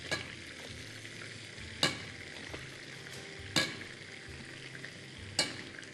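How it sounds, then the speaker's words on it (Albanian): Flour is stirred into melting butter and oil in a pan for moussaka, a soft frying sizzle under slow scraping strokes with three sharp clinks of the utensil against the pan. "Tani, shtoj miell."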